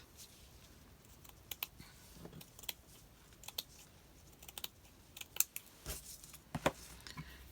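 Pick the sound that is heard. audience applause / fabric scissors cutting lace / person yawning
fabric scissors cutting lace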